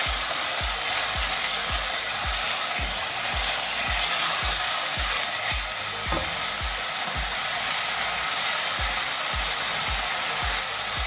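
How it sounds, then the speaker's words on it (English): Onions fry in a pan for chicken bhuna, a steady loud sizzle with a rhythmic series of spoon scrapes and knocks as they are mixed. "I'm gonna add the onions, and give it a mix."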